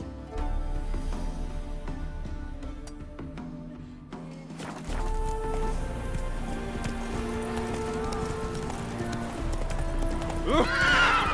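A horse in The Witcher 3 gallops with rapid, close hoofbeats that pause briefly and resume, ending with a loud, high neigh, all over a game music backdrop.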